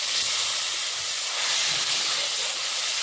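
Steady, loud sizzling hiss of chopped tomatoes frying in hot oil, continuous and close, with no talking.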